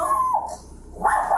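A small Yorkie terrier barks indoors in a house, two short bright yaps close by, separated by a brief pause, loud against quiet room tone.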